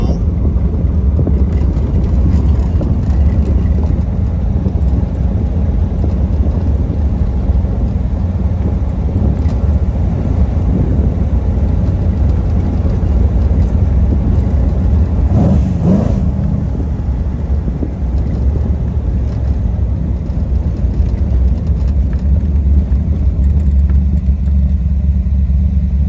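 Ferrari 250 GT California clone driving in second gear, its engine a steady low rumble mixed with road and wind noise throughout, with someone talking over it.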